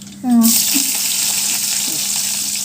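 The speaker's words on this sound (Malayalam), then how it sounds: "രണ്ട് വറ്റൽമുളക് ഇട്ട് കൊടുക്കട്ടെ" Dried red chillies dropped into hot oil with spluttered mustard seeds, a loud steady sizzle that jumps up suddenly and holds close for a few seconds.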